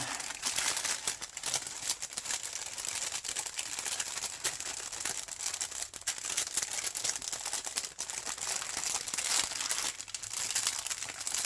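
Plastic bag crinkling steadily while a diamond art kit is packed into a larger bag, a close, continuous rustle with scattered sharper crackles and no talk.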